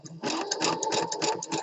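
A sewing machine stitches elastic into a waistband, its needle running in a fast, steady pulsing chatter close by and loud throughout.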